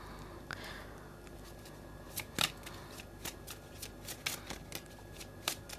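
Tarot cards being shuffled and spread out by hand, a run of crisp papery slaps and flicks in uneven bursts, close and fairly quiet with no talking.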